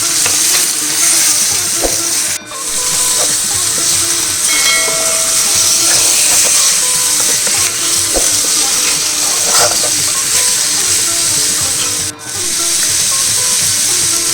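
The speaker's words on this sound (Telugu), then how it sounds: "చేప ముక్కలు వేసుకున్న తర్వాత కొద్దిగా ఫ్రై చేసుకుందాం." Fish pieces sizzling in hot oil in a pan for a Telugu-style fish curry, a steady loud frying hiss with a couple of brief dips, no one talking.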